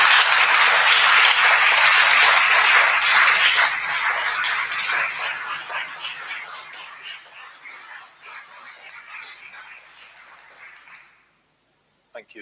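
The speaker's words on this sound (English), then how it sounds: "I invite you all to give Richard a huge round of applause to show our appreciation" A church meeting audience applauds, a loud sustained round of clapping that gradually thins and fades out, ending in silence with a brief sound at the very end.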